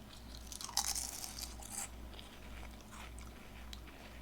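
Regular potato chips being crunched and chewed up close in a quiet room, a few crisp bites followed by softer chewing.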